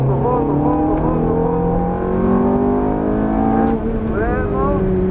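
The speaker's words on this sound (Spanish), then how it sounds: "frenamos, damos vuelta y empezamos a acelerar y vamos, fondo, fondo" An exotic sports car's engine climbs in pitch under hard acceleration, eases briefly as the car brakes and turns, then revs up strongly again, loud and close, with a voice talking over it.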